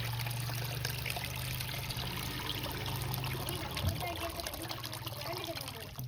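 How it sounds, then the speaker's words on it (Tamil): Water trickles and pours into the tank of a homemade air cooler built from a fan. The flow is steady and moderately close, over a constant low electrical hum. "இப்போ என்ன பண்ணோம்னா நம்ம தண்ணி ஊற்ற போகிறோம்"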